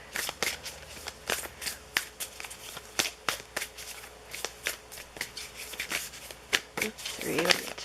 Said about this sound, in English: I'm just gonna get you a couple little message cards here.